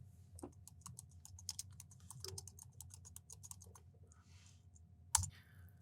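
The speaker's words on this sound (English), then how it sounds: "type a search into the Discover at MU search box and then click Search." Keys tapped on a computer keyboard while entering a search into a library website search box, a quiet run of light, fast clicks with a louder click near the end, no talking.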